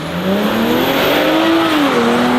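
Car engine revs hard and steadily during a short test drive, its pitch climbing then dipping slightly, loud and close with a continuous mechanical roar and no voices.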